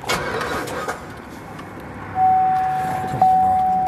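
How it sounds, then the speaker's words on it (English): A Porsche GT3 engine cranks without catching, heard from inside the car. A steady electronic chime sounds through the second half of the clip. "Why my car not starting, bro?"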